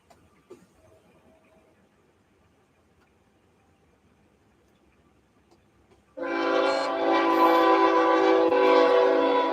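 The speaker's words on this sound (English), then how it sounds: "Hang on, guys. Train." After about six seconds of quiet background, a train passes close by and sounds its horn, a loud sustained multi-tone blast that continues to the end.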